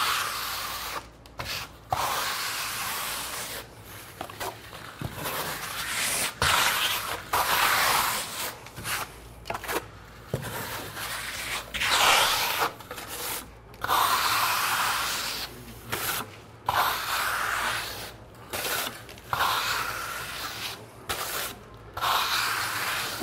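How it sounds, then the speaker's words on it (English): A steel trowel spreads Dryvit Lymestone finish across a wall in repeated gritty scraping strokes, close and fairly quiet, each pass broken by short pauses, with no talking. "now you'll just notice when I trowel it, can you see how smooth it lays down?"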